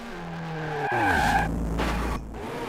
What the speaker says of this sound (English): The car slides everywhere.